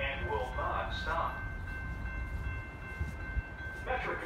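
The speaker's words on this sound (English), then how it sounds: "The next Metra train approaching your station will be a Metra Express train and will not stop." An outbound Metra Express commuter train passes through Riverside, Illinois without stopping, making a steady, broad rumble and rush. A station announcement voice is heard at the start and again near the end.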